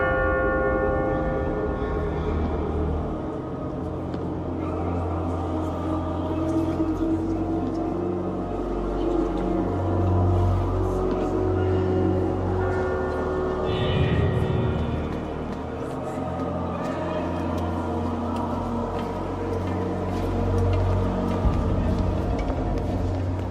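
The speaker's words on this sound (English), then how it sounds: "becomes louder at the altar, when the bell rings for the 12th and last time" A church bell tolls at the altar amid a choir in Assassin's Creed, its ringing sustained and reverberant inside a dense, steady wash of choral and ambient sound lasting over twenty seconds.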